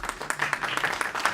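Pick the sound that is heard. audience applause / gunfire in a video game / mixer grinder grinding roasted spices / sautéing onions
audience applause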